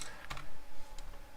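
Keys clatter on a computer keyboard as code is typed for a CodeCombat programming game, a short burst of close, quiet clicks with brief pauses between strokes.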